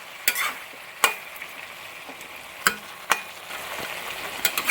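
Chicken pieces for a Kerala-style chicken stew sizzle in a pan while being stirred, with a steady frying hiss broken by several sharp spoon scrapes and clacks against the pan, close and moderately loud.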